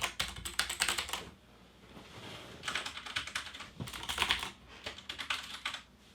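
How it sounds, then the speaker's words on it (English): Rapid bursts of sharp, clicky key presses on a HyperX Alloy Elite RGB mechanical keyboard with blue switches, loud and close, coming in several quick runs with brief pauses between. "So you can hear that tactile click each time."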